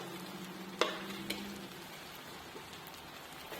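Two green chillies fry with paneer pieces in a pan, giving a faint, steady sizzle with a couple of sharp clinks of a utensil near the start and no voices.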